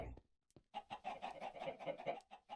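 Chickens in the Minecraft video game cluck in a steady run of short, close, fairly loud calls after a brief quiet start, with no one talking over them.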